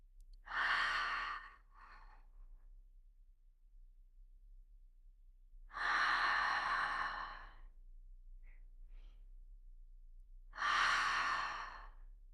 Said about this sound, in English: inhaling through your nose, exhaling through your mouth